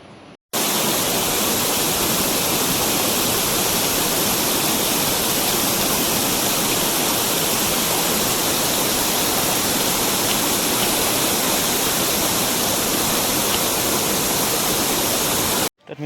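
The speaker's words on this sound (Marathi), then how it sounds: "धबधब्याचं नाव आहे किरखार धबधबो" The Kirkhar waterfall roars as a dense, steady rush of falling water, loud and unbroken for about fifteen seconds with no talk, starting and ending abruptly.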